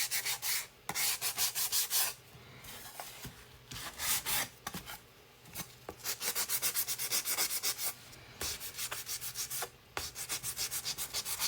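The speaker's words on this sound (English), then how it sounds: "So it's kind of hard to see in the camera how much paint I'm really taking off." A sander removes light paint from light-colored wood in close, rhythmic rasping strokes, coming in bursts with brief pauses between them and no talking.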